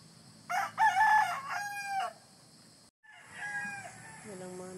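A hatch brood rooster on a Philippine farm crows close by, one full crow and then a second shorter crow after a brief gap, loud and clear over a faint background hum.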